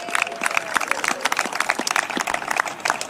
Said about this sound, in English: Give our young people a round of applause.